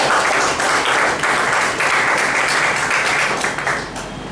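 Loud, dense applause from an audience at a speech evaluation session, a steady wash of clapping that fades slightly at the end.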